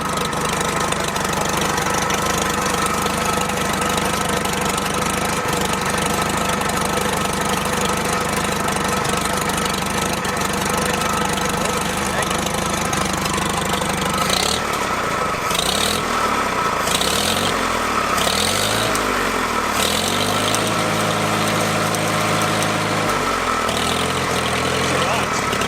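An old abandoned tractor engine idles steadily with a low, knocking rumble, with people talking over it and clattering mechanical noise later on.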